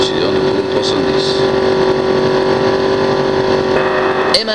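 Loud, sustained engine drone of a 1965 Ford GT racing at Le Mans, held at about 6000 rpm and roughly 310 km/h, with a steady high-pitched tone throughout and a brief blip near the end.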